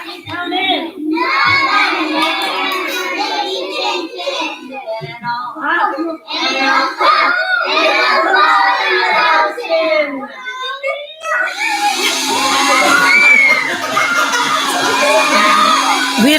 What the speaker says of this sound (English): We have to tell them to stop screaming.